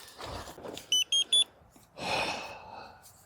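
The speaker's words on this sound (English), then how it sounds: "That's the sound of getting rid of bugs." An electric bug zapper at a nature park campsite gives three short, sharp electronic buzzes in quick succession, followed by a longer crackling burst, all heard close up in a quiet setting.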